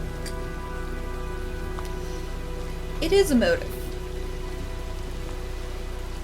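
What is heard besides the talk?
rain falling in the video game Heavy Rain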